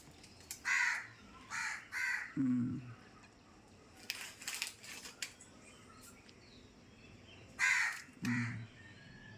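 Several crows caw in short, harsh bursts, some in quick pairs, scattered over quiet background with gaps between calls.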